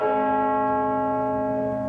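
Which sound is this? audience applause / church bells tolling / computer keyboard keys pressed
church bells tolling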